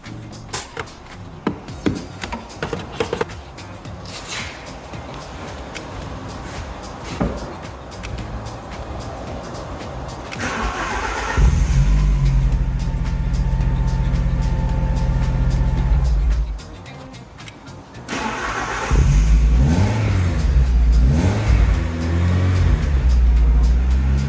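A car with a completely dead battery is jump-started with a portable jump starter. The engine cranks and catches into a loud, steady idle. It cuts out briefly and then starts again, running close and strong after scattered handling noises.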